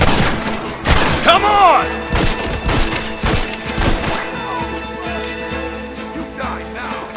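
Heavy gunfire crackles in a Red Dead Redemption firefight, with a ragged run of loud close shots and echoing reports, overlapping shouted voices and a brief call from one man.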